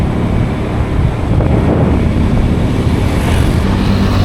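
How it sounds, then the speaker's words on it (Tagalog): A steady breeze rushes against the microphone as a loud continuous blustery roar through the whole stretch, heard while riding toward a hillside farm campsite in Tanay, with no voices. "Masarap na simoy ng hangin dito."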